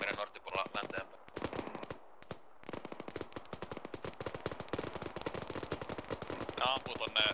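Gunfire rings out in the Arma 3 military video game: rapid bursts of automatic fire and single shots crack repeatedly at close range, and voices briefly talk over them.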